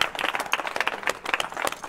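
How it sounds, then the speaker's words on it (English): Scattered clapping from a casino resort audience welcoming a contestant, moderately near, uneven and fairly light, with no voices over it. "Give him a big round of applause."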